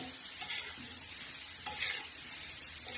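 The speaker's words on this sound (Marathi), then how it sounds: "हळद आता हे छान असं हलवून घेणार" Chili powder and turmeric stirred into bitter gourd curry in a pan, a soft continuous sizzle with light scraping strokes and one brief spoon tap.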